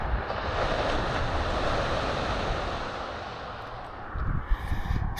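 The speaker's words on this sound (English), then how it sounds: "This is the beach right across the road." Ocean waves wash onto a beach across the road from a holiday stay near Busselton, a broad, continuous roar of surf mixed with wind buffeting the microphone.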